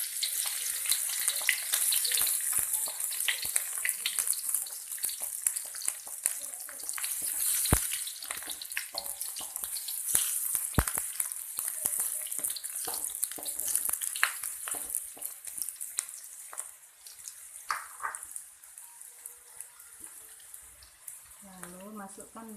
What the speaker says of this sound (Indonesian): Sekarang saya mulai menumis.